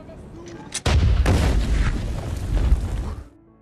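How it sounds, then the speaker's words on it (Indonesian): A sudden loud landmine explosion bursts out, followed by a long rumbling roar that slowly fades over a few seconds. "terjadilah ledakan"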